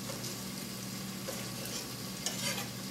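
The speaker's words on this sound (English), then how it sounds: "We're now going to get the tomatoes in." Fresh tomatoes added to a hot pan sizzle and fry in a steady, close hiss, with a few soft scrapes from stirring.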